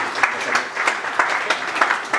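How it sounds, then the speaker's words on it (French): An audience at a Cameroon National Day celebration on 20 May claps steadily and moderately loud, with dense, continuous applause and no pauses. "Un tonnerre d'applaudissements, s'il vous plaît."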